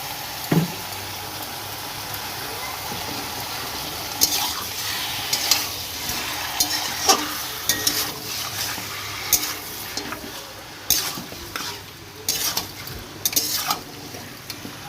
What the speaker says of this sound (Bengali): আর এর মধ্যে একটু তেল দিয়ে দিলাম সর্ষের তেল